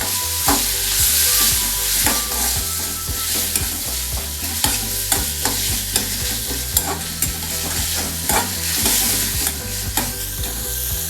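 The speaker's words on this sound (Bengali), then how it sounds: "এবার রেড চিলি গার্লিক অল্প করে দিয়ে নাড়তে নাড়তে" Red chili garlic paste stirred in a frying pan for a Bengali aloo dum, producing a loud, continuous sizzle with repeated scraping strokes and clinks of the spatula throughout, no voices.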